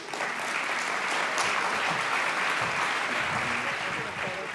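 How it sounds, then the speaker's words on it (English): Audience applause greets a keynote speaker at a general session of a conference: sustained, dense clapping from a large crowd fills the whole stretch, steady and loud, with faint voices mixed underneath. "please give a warm welcome and round of applause to our keynote speaker, Joy Baldridge."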